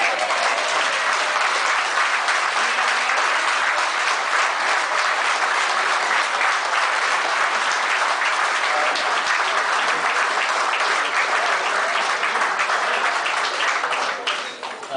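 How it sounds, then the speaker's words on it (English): Sustained warm applause from a dinner audience at a charter evening presentation, steady and full for about fourteen seconds before tapering at the end. "Give these gentlemen a very warm round of applause, please"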